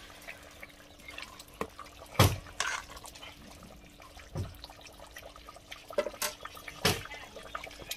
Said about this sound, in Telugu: ఇప్పుడు వాటర్ యాడ్ చేసుకోవాలన్నమాట.